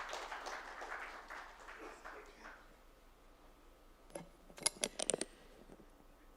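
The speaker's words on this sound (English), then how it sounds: "Let's give him a round of applause, ladies and gentlemen." An audience at an awards ceremony applauds as a speaker is called to the dais, a moderately distant burst of clapping that fades over about two seconds, followed by silence and a few sharp ticking taps.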